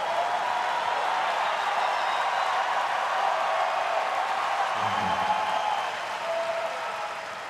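Applause from a tennis crowd at a Zverev–Dimitrov 2023 third-round match rolls on steadily, a dense wash of clapping that fades slightly toward the end.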